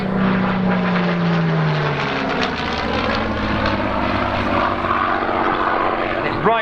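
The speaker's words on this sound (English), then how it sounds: "Packard Merlin 266 powered machine." Packard Merlin 266-powered piston aircraft at an airshow, its engine giving a loud, steady propeller drone that holds throughout with a low tone sliding down early on.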